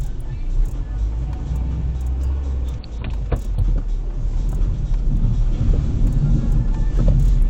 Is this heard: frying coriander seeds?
no